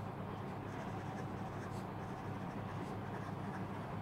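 A Pilot Petit-1 fountain pen scratches steadily across paper, with close, continuous writing sounds over a constant low background rumble.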